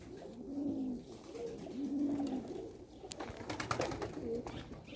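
Young pigeons, two weeks into flying outdoors, coo in low, throaty phrases, several calls close by, followed by a brief flurry of sharp clicks and rustling.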